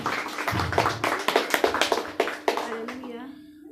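A church congregation claps hands in rapid, uneven bursts, a loud crowd of sharp slaps that fades out toward the end.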